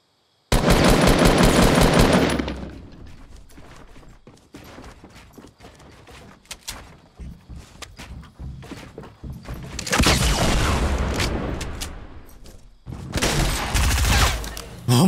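Bursts of automatic rifle fire in a first-person shooter video game: a loud sustained volley at the start, then scattered shots, then two more heavy bursts near the end.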